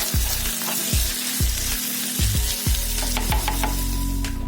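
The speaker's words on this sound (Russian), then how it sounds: "Лук и перец уже на сковородке будем обжаривать" Onion and pepper sizzle and crackle steadily in a hot frying pan, with a few soft scraping stirs and light taps, close and continuous.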